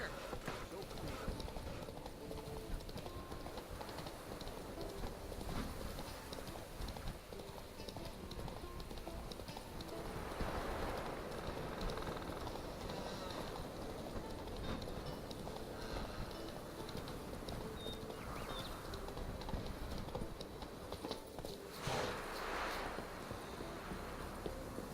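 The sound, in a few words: horse Roach galloping, from video game Witcher 3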